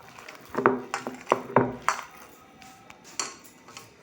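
Spoon or utensils clatter and scrape against a bowl in irregular bursts while mixing bitter gourd leaf fritter batter, close and fairly quiet, with no talking.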